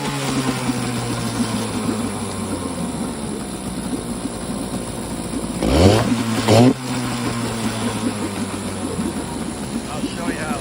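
A 70-year-old outboard motor idles steadily, then revs sharply twice with the throttle before settling back to a close, continuous drone.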